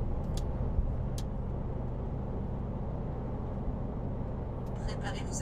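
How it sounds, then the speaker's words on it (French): Steady broadband road rumble from traffic at the Franco-Belgian border, trucks among the passing vehicles, heard continuously as a dense low drone, likely from inside a moving cab, with a few brief high clicks. "Il y a beaucoup de camions qui roulent aussi par ici"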